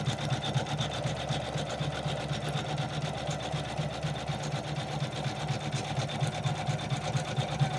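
An embroidery machine runs a dense satin stitch to cut heat-transfer flex, giving a steady rapid mechanical chatter with an even rhythm throughout, close and alone.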